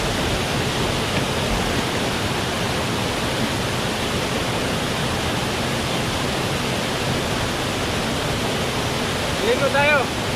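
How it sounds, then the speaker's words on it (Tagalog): A small waterfall in the countryside mountains rushes steadily with broad, constant water noise, loud and close, while a voice briefly rises near the end. "Mini falls, maliit na falls sa kabundukan, kabukiran."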